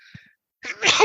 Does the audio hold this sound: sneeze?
yes